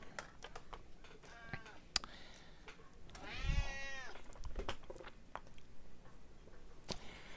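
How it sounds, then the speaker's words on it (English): Cat meowing once, a clear drawn-out meow in the middle amid sharp clicks and taps of laptop teardown work, fairly close, with no talking. "We've got our friend Chester Cat telling us that he's not happy with life right now"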